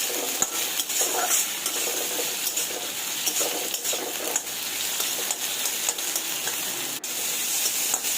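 Cut potatoes fry in a pan for a small batch of chowmein, a dense steady sizzle with repeated metal spatula scrapes and light clinks throughout, close and fairly loud, without speech.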